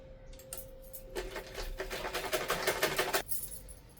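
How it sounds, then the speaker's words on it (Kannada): A sewing machine runs in a quick rattling burst as it stitches a langa blouse seam, preceded by a few soft clicks and a faint tone, with no talk. "ಎಲ್ಲ ಸಮವಾಗಿ ಇಟ್ಕೊಂಡು ನೋಡಿ ಅರ್ಧ ಇಂಚು ಸ್ಟಿಚ್ ಹಾಕೋತಾ ಇದ್ದೀನಿ."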